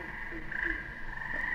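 A chorus of tree frogs at a frog pond calls in a steady, continuous trilling drone, moderately faint, with no other sounds standing out.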